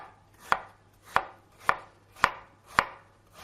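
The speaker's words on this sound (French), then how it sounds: "je vais vous montrer comment personnellement je coupe les pommes" Knife cutting apples on a board for an apple tart, five crisp evenly spaced chops about half a second apart, close and clear with no talking.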